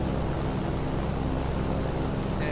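The Junkers JU-52 engines in Microsoft Flight Simulator 2020 run at full power with a loud, constant broadband roar and a low throbbing drone that holds steady throughout.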